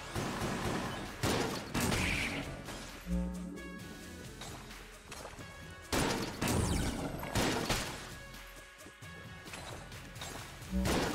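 Rapid gunfire in Enter the Gungeon, with bursts of shots and crashing impacts that keep coming close and loud throughout, mixed with game effects and no talking.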